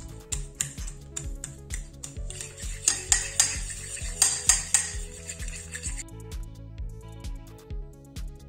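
Bread crumb being mixed and mashed with cheese in a bowl for cheese milk buns, a series of clinking utensil scrapes and taps against the bowl in irregular bursts, close and fairly faint.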